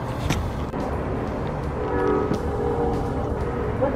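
A train rolls right through the middle of town in Tucson, Arizona, its loud horn blaring in sustained blasts over the steady rumble and clatter of the passing cars, heard from a hotel patio.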